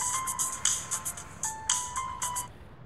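Telephone ringtone playing close and clear, a bright electronic pattern of quick repeated bursts with a steady tone underneath, pausing briefly midway and then repeating.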